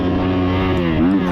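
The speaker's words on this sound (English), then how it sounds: "I revved up the bike to let him know" A dirt bike engine revs loudly and close during a cross country race in Westernport, Maryland, holding a steady buzzing drone that climbs briefly near the end.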